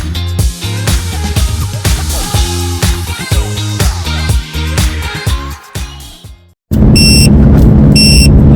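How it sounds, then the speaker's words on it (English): Rhythmic thumps and corrugated-road noise give way to steady engine hum, over which a pair of high, insistent electronic tyre pressure monitor warning beeps sounds twice. "our tyre pressure system is beeping at us"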